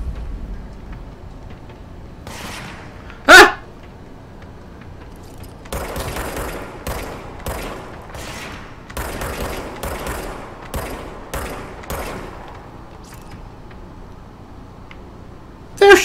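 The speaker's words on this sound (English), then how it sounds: "They're shooting back at me." Enemy gunfire in the video game Control, repeated bursts of rapid shots and scattered single cracks over a low rumbling background, with one sharp loud blast early on.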